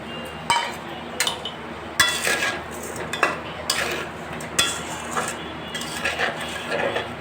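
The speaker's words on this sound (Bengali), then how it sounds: "ভালো মতো নেড়ে চেড়ে জাল করে নেব।" A spoon scrapes and clinks against a pan while tangy-sweet spiced amra pickle is stirred with chili powder and sugar, giving irregular close metallic knocks over a low background.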